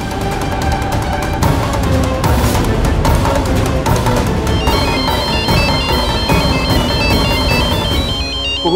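A mobile phone rings with a loud, repeating electronic ringtone melody that plays continuously for several seconds over a background music score.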